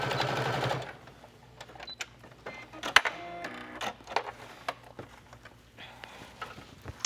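A sewing machine stitching a dress hem runs in short bursts of whirring and clicking. Handling noises fall between the bursts, and a louder rush of sound opens the passage.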